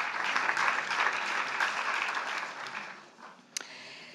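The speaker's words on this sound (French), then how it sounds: "Vous pouvez les applaudir aussi." Council members at a metropolitan council meeting applaud in a sustained round of clapping that gradually thins and fades, ending with a single sharp clap near the close.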